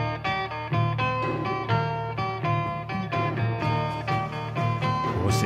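Bright 12-string guitar riff from a 1963 song, ringing chiming notes in a steady repeating pattern, played alone and up close with no voices.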